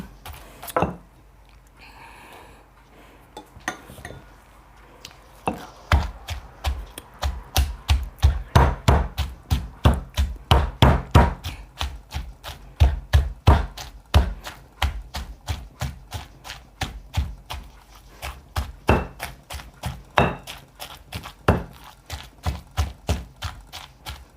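Shrimp paste chili dip pounded in a mortar for freezing, a steady rapid run of loud, close wooden thuds that starts sparse and settles into a fast, even rhythm for most of the stretch.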